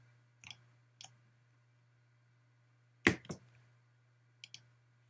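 Sparse, quiet computer mouse clicks, about six single and paired taps spread over a few seconds, over a steady low hum while points are set on a lower-jaw model in software.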